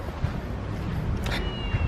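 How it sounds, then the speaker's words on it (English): A cat meows on a doorstep on a rainy day, a couple of short close calls over a steady background hiss of rain. "I'm not sure whose cat that is, but he's always hanging out on our doorstep."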